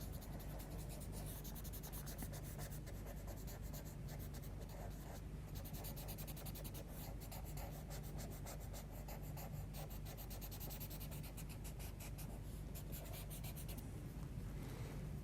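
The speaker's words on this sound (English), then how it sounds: "we'll use the paper stump and just blend that in a bit" Paper stump rubbing and blending charcoal on drawing paper, a steady soft scratchy friction with repeated short strokes, close and quiet throughout.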